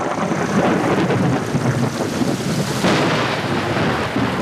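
A heavy thunderstorm with a dense, steady roar of rain and rolling thunder, loud and continuous throughout with a swell of rumble near the end; no voices.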